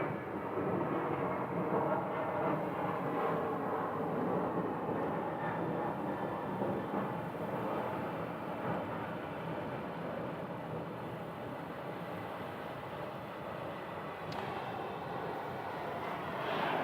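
A passenger aircraft at Phoenix Sky Harbor airport makes a sustained, broad roar of jet engine noise that holds steady throughout, fairly distant and unbroken by speech.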